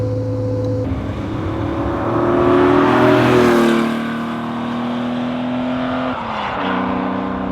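A Porsche 911 2.8 RSR on the road, its engine note rising as it accelerates through the gears, with a loud rasping whine, a brief drop at each shift, and steady road noise throughout.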